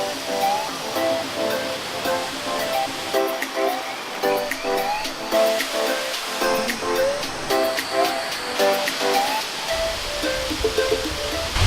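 Waterfalls at Kuang Si Falls give off a steady, full rush of falling water, broad and constant through the whole stretch, with light rustling and scattered higher splashes mixed in.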